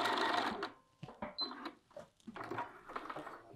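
A sewing machine stitches around a sleeve in short, quiet, close bursts of rapid needle clatter with brief pauses between runs, and no one talks.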